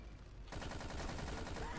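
A shotgun firing in the Battlefield 2142 video game sounds like a burst of rough, dense gunfire with explosive noise, starting about halfway through and continuing loud and steady to the end.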